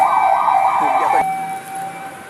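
Fire truck sirens wail on Taft Avenue in Manila as more engines arrive at a fire, a loud rising and falling tone over traffic noise that shifts to a steadier pitch partway through.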